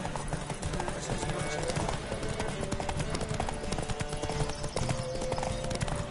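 Rapid, steady hoofbeats of galloping horses in a PlayStation 4 Witcher horse race fill the clip, loud and continuous, with music and voices mixed underneath.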